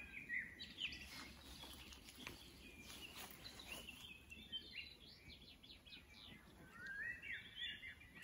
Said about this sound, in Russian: И птицы поют.